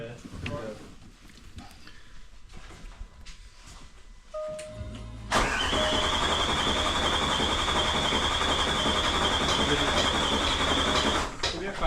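Range Rover L322 TDV8 diesel engine with a fault cranks and catches, settling into a loud steady idle with a persistent whine, after quieter moments with a person talking nearby.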